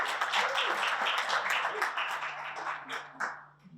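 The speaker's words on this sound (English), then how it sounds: "Give yourself a round of applause for that." Luncheon audience at a Hispanic Chamber business event applauding together, a steady dense patter of many hands that holds for several seconds before tapering off near the end, with a faint voice underneath.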